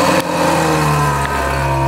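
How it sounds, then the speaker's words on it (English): A Ferrari 430 Scuderia V8 is revved with its exhaust valve closed, giving a loud, close, steady engine drone with a brief dip and rise in pitch. "Let's rev it a little."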